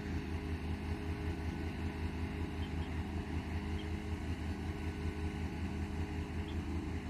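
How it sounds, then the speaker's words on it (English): The air conditioning system on a diesel switcher locomotive hums in a steady, low drone, continuous and fairly faint, with no talk over it. "That sounds like an air conditioning system."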